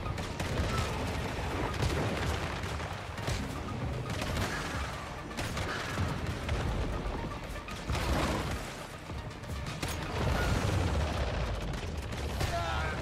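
Gunfire in the video game Once Human: a dense, continuous barrage of shots and heavy impacts fills the whole stretch, loud and close, with a few quieter gaps and occasional crashes layered over the din.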